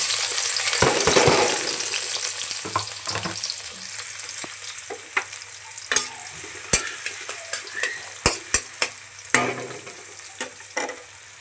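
Oil sizzles in a hot pan in a Bengali village kitchen, a loud broad hiss at first, then a series of sharp crackles and spoon scrapes against the pan, close and with no voices.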